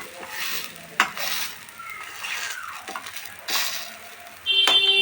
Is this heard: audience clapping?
no